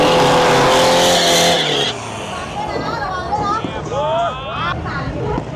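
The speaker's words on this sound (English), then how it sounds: "Now this is a quintessential Thailand drag race." Cars at a Thailand drag race roar loudly off the line, then fade as they pull away, leaving distant engine whines and shifting revs amid crowd chatter and voices.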